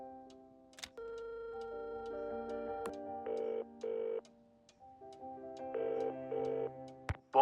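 A telephone rings in Nancy Drew: Curse of Blackmoor Manor, several electronic ring bursts in a steady rhythm over soft background music, clear and fairly close.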